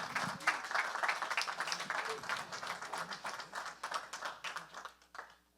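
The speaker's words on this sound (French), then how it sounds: "Hey, on les applaudit." An audience at a community literacy event applauds performers with sustained, dense clapping that tapers off toward the close.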